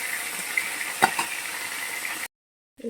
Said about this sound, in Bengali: এই মাছগুলোকে আমি সব ভেজে নেব